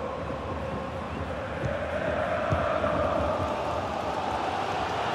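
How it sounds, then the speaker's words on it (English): Roaring stadium crowd of Bayern fans in FIFA 20 during a Champions League group stage match, a dense continuous wash of cheering and chanting that swells a little louder midway. "Listen to this Bayern crowd urging their team on for a winner"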